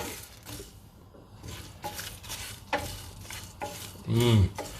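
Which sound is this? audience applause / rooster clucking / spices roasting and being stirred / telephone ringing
spices roasting and being stirred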